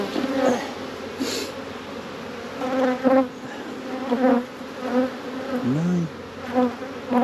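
Honeybees buzzing around an opened, queenless hive during requeening, a dense continuous drone with individual bees swelling louder as they pass close; a voice briefly speaks once over the buzzing.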